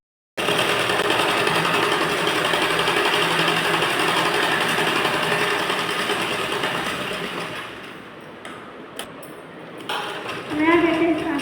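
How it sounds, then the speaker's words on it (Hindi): Sewing machine stitching a seam on a blouse, running loud and continuous for most of the clip before slowing and stopping near the end. "अब यहाँ से सिलाई लगाने के बाद ये लाइन हमारी कंप्लीट होगी।"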